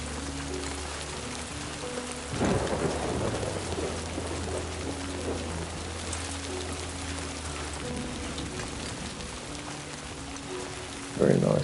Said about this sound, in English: Very nice rain effects on the camera